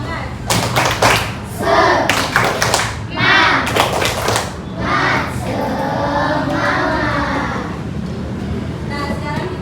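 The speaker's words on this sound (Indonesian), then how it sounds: "Tepuk semangat." Children in a classroom perform a rhythmic spirit clap, with sharp bursts of clapping and thumping in the first few seconds amid young voices, then settling into chatter and a teacher's voice.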